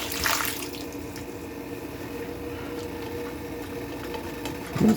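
Water runs and splashes steadily while gizzard gravy fries are being made, a continuous liquid wash with a brief louder burst near the start and another at the end.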